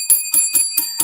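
A bell rung rapidly and repeatedly, about five bright metallic strikes in quick even rhythm with sustained ringing tones between them, loud and close.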